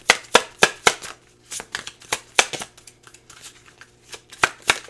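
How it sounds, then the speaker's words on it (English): Tarot cards being shuffled and pulled, a run of crisp riffling snaps and flicks, quick bursts early then softer scattered slides and taps, close and fairly quiet with no talk over them. "let me pull some tarot cards for you here"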